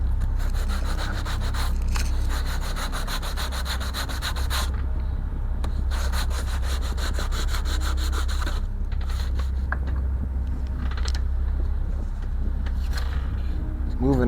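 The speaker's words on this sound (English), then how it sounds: "I'm going to do a little bit of sanding." Wooden part of a 1:50 scale Flying Dutchman model ship kit rubbed with a sanding block, a rhythmic scratchy back-and-forth rasp in quick strokes, close up, with a low steady hum beneath and brief pauses later on.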